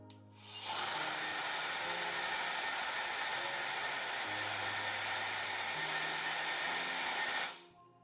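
The X3 turbo fan dust blower spins up to a loud, steady high-pitched whoosh, holds it for several seconds close by, then winds down, with no talking over it.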